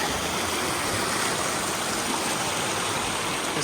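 Hat Creek stream flowing steadily along a forested trail, a continuous broadband rush of water that stays even and close throughout.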